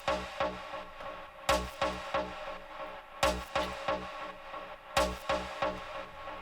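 Pitched synth stab in a psytrance groove, drenched in reverb and delay, hitting in a steady repeating rhythm over pulsing kick and bass, loud and continuous with echoing tails trailing each hit.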